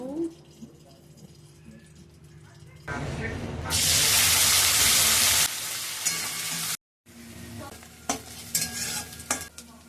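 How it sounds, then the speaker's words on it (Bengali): Fish sizzles loudly in hot oil with stirring scrapes, the frying surging in the middle before quieter clinks and kitchen sounds. "তো সব মাছগুলো আমার ভাজা হয়ে গেল।"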